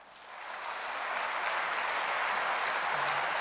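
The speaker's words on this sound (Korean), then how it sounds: "목사님 나오실 때 박수로 환영하겠습니다." A church audience at a Sunday evening youth revival service applauds to welcome the pastor, a broad, steady wash of clapping that swells over the first second and then holds evenly, heard from a distance in a large hall.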